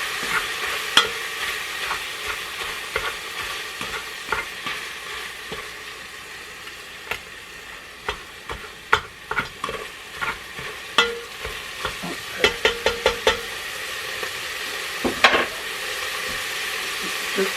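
Ground hamburger meat browning in a pan for taco soup, broken up with a hamburger breaker tool: a steady soft sizzle with repeated scraping, tapping stirs and chops at an uneven rhythm, close and fairly quiet, with no talking.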